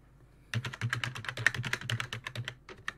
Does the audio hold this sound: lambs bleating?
no